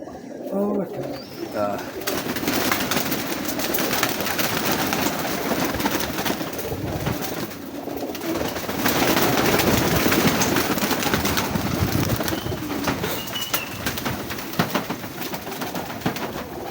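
Teddy pigeons of a breeder pair coo in a loft, the soft repeated calls mixed with broadband rustling and handling noise, while someone talks close by for much of the time.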